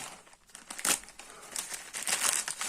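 Loud crinkling and crumpling of plastic wrapping being pulled apart close by, in bursts of rustling with brief tearing sounds, no talking.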